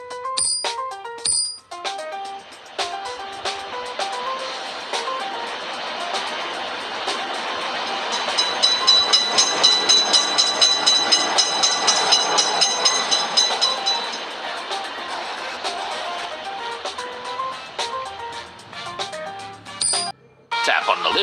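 A cartoon video game train passes a railroad crossing, loud continuous tonal game sound swelling in the middle, with short breaks near the start and end.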